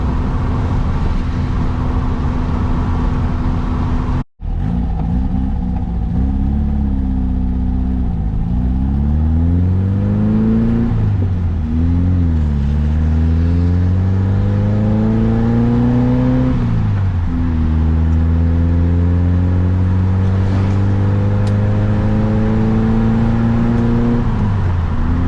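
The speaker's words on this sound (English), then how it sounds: "them kicking off my July 4th weekend with a joyride and a classic VW Beetle" A classic VW Beetle pulls away and climbs through the gears on a July 4th joyride, its air-cooled engine revving up and easing off repeatedly in a steady, loud, close drone with no voices.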